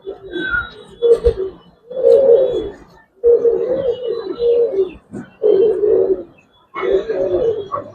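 Giribaz and coloring pigeons coo close by in repeated throaty bursts, each a few rolling notes separated by short pauses, with no talk over them.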